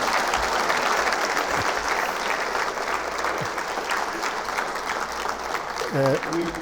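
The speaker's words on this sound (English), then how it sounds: "Let's give him a round of applause." Sustained audience applause at the end of a talk on the history of Highland cattle, a dense wash of clapping that holds steady throughout, with brief voices and a short tonal sound near the end.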